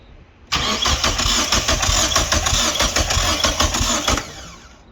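A 4G93 turbo Lancer engine cranks over on the starter during a spark check, a loud rapid rhythmic churning that starts abruptly and runs about four seconds without catching before stopping.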